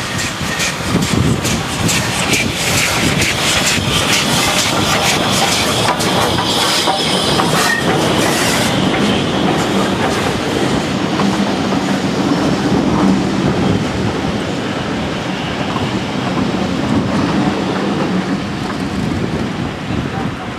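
A loud steam train on the Dartmouth Steam Railway departs, rumbling and clattering continuously at close range, with rhythmic wheel noise and occasional metallic squeal throughout.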